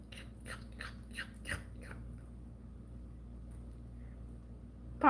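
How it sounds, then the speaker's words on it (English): A pet dog munching and chewing on an object, giving a few quick close crunchy bites in the first two seconds, then near silence before a brief louder noise at the end. "I think he just likes munching on the actual thing."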